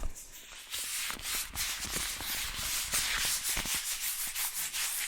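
Fast, brisk rubbing close to the mic, a dense scratchy swishing that pulses in quick strokes for several seconds without any talking.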